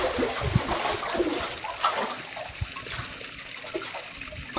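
Water pours and splashes continuously into a tank after cleaning, a steady rushing trickle with small irregular splatters, moderately loud and close.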